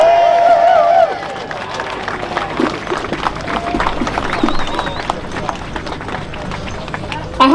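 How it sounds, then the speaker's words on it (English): Applause from an audience for volunteer musicians at a Brexit Day event in Scotland: a dense, steady crackle of many hands clapping that runs the whole length, starting with a louder burst and carrying on evenly. "So please give them another big round of applause."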